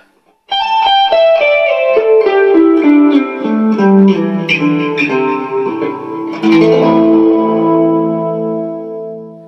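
Clean electric guitar playing a sequence of picked notes and chords, each note trailing off in repeating echoes, loud and close with no talking.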